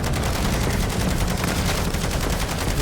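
Rapid, continuous automatic gunfire from a Bruen MK9 and Ray Gun in a Call of Duty zombies story mission, loud and dense with steady rattling bursts filling the whole stretch, no speech over it.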